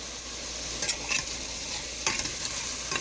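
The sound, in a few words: meat frying in a pan for vegetable fried rice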